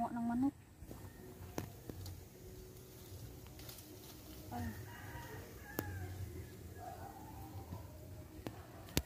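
Chickens in a rural vegetable-garden setting in Pampanga give a brief crow near the start, then faint scattered clucks, with people talking quietly nearby.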